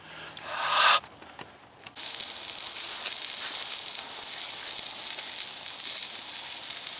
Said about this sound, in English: I'm gonna go put the steaks on the grill.